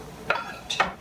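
Quinoa and vegetables stirred in a skillet: two quick scraping swishes of a utensil against the pan over a soft background sizzle.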